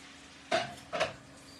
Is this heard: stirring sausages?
yes